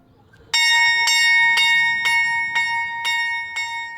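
A bright bell rings in steady strikes about twice a second, each ring clear and metallic, fading slightly over the run, with no voices.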